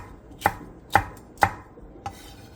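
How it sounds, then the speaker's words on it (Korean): A knife slices cheongyang chili peppers diagonally on a cutting board, four crisp, evenly spaced chops with the last one softer, close and alone. "청양고추 3개를 어슷썰게 해주세요."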